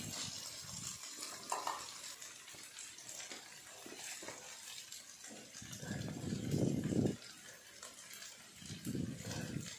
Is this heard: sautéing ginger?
yes